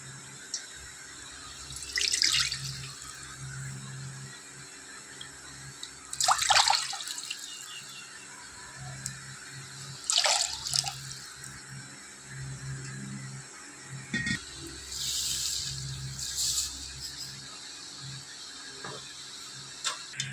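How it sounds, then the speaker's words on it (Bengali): Water poured from a bowl into a pan for making sugar syrup, several separate splashing pours a few seconds apart, each a short close gush with quiet gaps between. "আমি এই বাটির 2 বাটি জল দেবো।"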